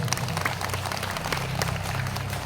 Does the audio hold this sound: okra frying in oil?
no